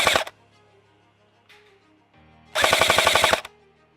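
An Arcturus Centaur AK airsoft rifle shooting ASG 0.28 g BBs lets off a short single burst, then after a pause a rapid full-auto string of about a second, loud and close outdoors.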